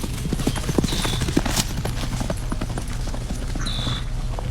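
Horses' hooves clip-clopping steadily outdoors, a dense run of close, even hoof knocks over a constant background rumble, with a couple of faint high tones behind.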